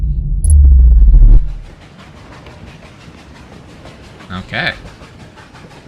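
Train interior rumble aboard the Stellar Express in an Outer Wilds mod: a loud, deep rumble for over a second, then a quieter ongoing clatter. A voice speaks briefly.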